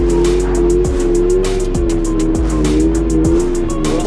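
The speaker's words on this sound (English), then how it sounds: "we're gonna drift around just a little bit more" A 2022 Subaru BRZ (Toyota 86) drifting on a wintry road, its engine droning steadily and loudly with a wavering tone, tires hissing and squealing over the continuous drone.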